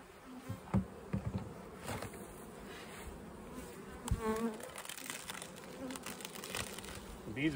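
Honeybees buzz steadily at close range in a hive, a soft droning hum with occasional individual wingbeat whines and light handling rustles.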